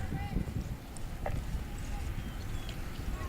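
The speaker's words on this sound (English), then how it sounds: "It looks like Margaret's horse is running away from the ball" Horses gallop across a field during polocrosse training, hooves thudding in an irregular clip-clop under continuous commentary from a nearby voice.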